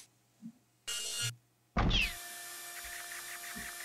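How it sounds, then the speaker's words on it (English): A laser drill fires in the video game Breaking the Bank. Two short hits and a brief burst give way to a loud, steady electronic whine that holds to the end, with no talking. "I'm gonna try laser drill"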